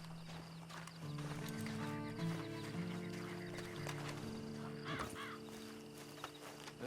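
Hooves clip-clopping at a walk from a horse in the video game Red Dead Online on Xbox Series X, a steady rhythmic clatter over a low sustained musical drone, with a snort partway through.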